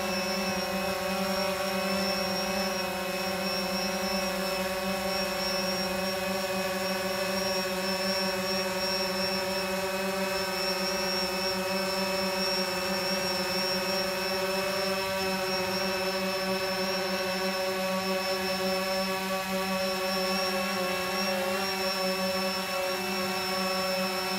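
Tiny Syma X21 indoor drone hovering as it tries to land on top of a larger DJI Phantom drone, giving a steady, close, high-pitched electric rotor whine that holds throughout with no talk.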